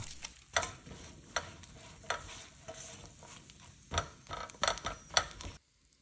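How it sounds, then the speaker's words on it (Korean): Rice cakes fry in butter and sugar syrup in a frying pan, with a soft constant sizzle broken by irregular scraping and clacking stirs of a utensil, close and fairly quiet, ending abruptly. "준비한 가래떡을 넣은 뒤에 노릇해질 때까지 익혀줍니다."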